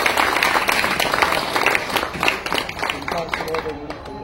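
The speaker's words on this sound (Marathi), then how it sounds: "एकदा खूप जोरदार टाळ्या परत विनीत करता व्हाव्यात" Audience applause at a devotional gathering, a dense stretch of clapping from a crowd that carries on at an even level for a few seconds and then thins slightly toward the end.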